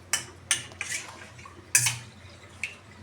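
A utensil stirring a flour and cold water mixture in a pot, heard as a handful of sharp metallic clinks and taps at irregular intervals, close and fairly loud, with no talking.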